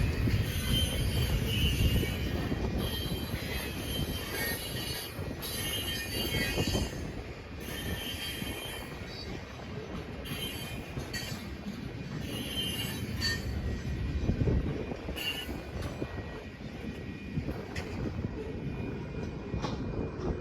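An Iowa Northern F40PHR locomotive rolls past hauling its train, steady rumbling wheels on track with high metallic wheel squeal running throughout, moderately loud and continuous, with no voices.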